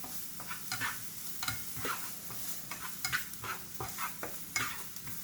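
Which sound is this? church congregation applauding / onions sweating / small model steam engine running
onions sweating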